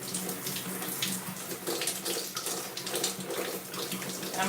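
Tap water running steadily into a sink or shower while something is rinsed under it, a continuous hissing splash with small uneven surges.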